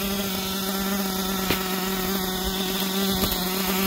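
Losi LST XXL RC truck with a small nitro engine idling steadily, a buzzy, high, insect-like drone close by with a couple of faint knocks, no talk.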